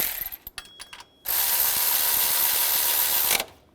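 A bolt on the tensioner pulley of a 2007-2013 Chevrolet Silverado tightened with a ratchet, starting with a few quick clicks followed by a loud continuous buzzing ratcheting burst lasting about two seconds, close up.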